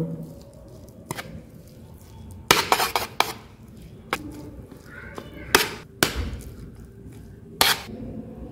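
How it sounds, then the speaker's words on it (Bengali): A metal spoon clinks sharply and irregularly against a bowl while egg is beaten into a kohlrabi snack batter, with several distinct knocks and brief scrapes between quiet pauses. "এবার আমি চামচের সাহায্যে খুব ভালো করে মেখে নেব।"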